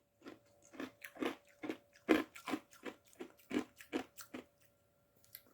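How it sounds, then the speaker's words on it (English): Ice cubes crunched between the teeth by a person, a close, loud series of about a dozen sharp bites and grinding chews in an irregular rhythm, with no talking. "That's me chewing ice."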